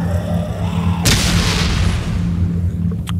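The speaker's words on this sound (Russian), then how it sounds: "Блин, тут гранаты." A grenade blast in the VR shooter Dead Effect 2 VR, a sudden heavy boom about a second in with a rumbling tail over steady game background hum, followed by a faint sharp click near the end.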